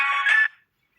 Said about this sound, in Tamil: ஃபோன் வேறு வந்துச்சு சாரி.